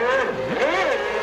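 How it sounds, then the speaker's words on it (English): A 1994 Benetton Formula One car's engine hesitates and nearly stalls at a pit stop launch during the Pacific Grand Prix, the revs dipping and sweeping back up in a loud, close wavering whine. "If you drop the clutch a fraction before, you get that big hesitation like you just heard there with Schumacher"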